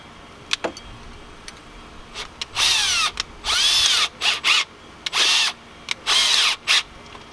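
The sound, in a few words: drilling a hole with a wood spade bit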